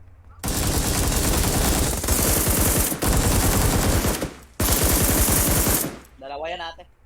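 Automatic gunfire in a multiplayer shooter video game, loud sustained bursts with brief pauses between them, close and dominant, followed by a short burst of excited talking.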